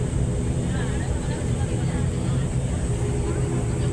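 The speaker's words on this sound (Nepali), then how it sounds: "हाम्रो प्लेन उड्ने सुरु भइसक्यो" Propeller airliner taking off from Kathmandu, a steady loud cabin roar of engines with a high whine above it, heard from inside throughout.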